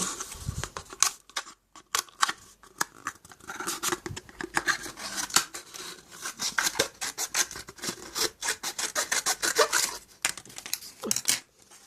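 Scissors snip and rasp through a paper cup close up, the dry crisp cuts coming in quick irregular bursts with brief pauses, trimming the cup down while making melon pudding.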